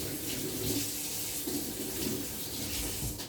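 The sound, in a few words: water being added to a pot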